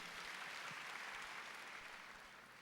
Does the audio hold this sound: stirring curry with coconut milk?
no